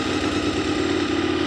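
A QJ Motor SVT 650X motorcycle, a 650 cc engine, idles steadily close by with a continuous low, even rumble.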